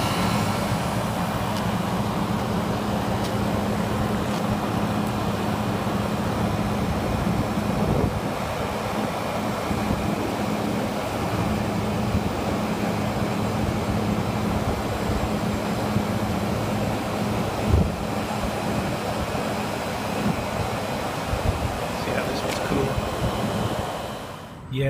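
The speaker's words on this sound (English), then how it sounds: "see if that compressor runs" An air conditioner condenser unit runs its compressor and condenser fan at close range: a continuous low droning hum with a steady whooshing airflow, even and loud throughout, with a few faint clicks near the end.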